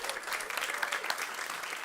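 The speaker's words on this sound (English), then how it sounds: "give Joy a huge round of applause" A farm-vitality forum audience applauds Joy O'Shaughnessy, a short, fairly quiet burst of steady clapping from a roomful of people.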